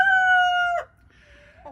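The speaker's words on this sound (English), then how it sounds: "Got to spend time with the rooster, and he's excited about it, as you can tell." A rooster gives one loud, close crow lasting under a second, followed by a faint trailing cluck and the start of another call.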